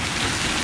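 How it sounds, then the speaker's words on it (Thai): Heavy rain with hail pours down steadily in a dense, loud, unbroken roar close at hand during a storm in the United States, with no voices. "เราก็นึกว่าฝนมันตกแล้วมันจะไม่มีลูกเห็บแล้ว"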